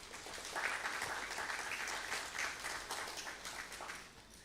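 Audience applause at a memorial lecture, a steady wash of many hands clapping at moderate distance, sustained evenly for several seconds with no voices over it.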